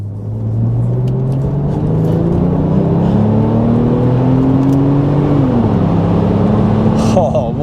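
A Porsche 911 Turbo 997 Cabriolet convertible driving, its engine note rising steadily under acceleration, then dropping at a gear change and climbing again, loud and close, with faint wind and road noise.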